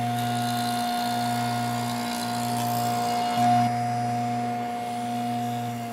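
A saw cutting slowly through a thin strip of wood in a woodworking shop gives a steady, even droning hum that holds for several seconds, close and with no voices.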